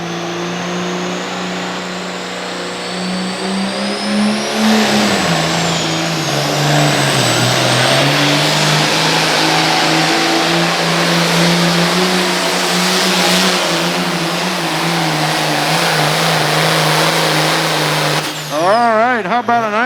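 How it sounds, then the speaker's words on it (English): A loud Ford pulling tractor engine roars and revs at a county fair tractor pull while a high turbo whine winds up and holds above it, continuous and close. "Boy, you can really hear that turbo winding up."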